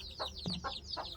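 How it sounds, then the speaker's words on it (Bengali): Small chicken chicks in a new coop peep faintly in a quick repeating series of high chirps, with one soft low thump in the middle. "এই যে এখানে মুরগির বাচ্চাকে বসানো হয়েছে"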